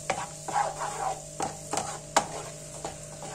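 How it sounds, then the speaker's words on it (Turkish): A spoon stirs garlic, black pepper and spices in a frying pan, giving soft scraping strokes and light taps at an irregular rhythm over a faint sizzle, close and fairly quiet. "Şöyle hızlıca karıştırıyorum."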